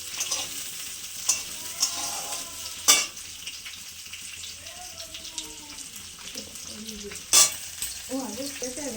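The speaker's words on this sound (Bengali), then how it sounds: "পেঁয়াজগুলো আর ক্যাপসিকামগুলো একটু ভেজে তুলে রাখবো" Onions and capsicum fry in a pan with a steady crackling sizzle, broken by a couple of sharp utensil knocks and scraping stirs, close and moderately loud, with faint voices in the background.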